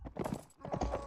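Horse hooves clip-clop in Mount and Blade Warband during a battle with a mounted soldier, a quick run of close, loud hoofbeats in a brisk rhythm with a short gap in the middle.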